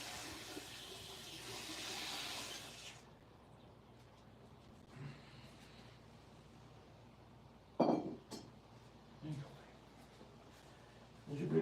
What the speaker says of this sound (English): Rinse out the big bowl